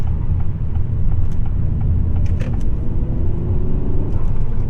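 Engine of a 2024 Acura Integra A-Spec in sport mode, third gear, cornering at about 30, a loud steady low rumble of road and engine noise heard from inside the car.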